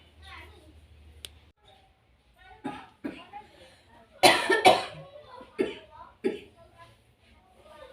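Several coughs from someone with a cough and stomach ache during a traditional massage, coming as a cluster of sharp bursts midway with a louder pair near the middle, plus softer sounds around them.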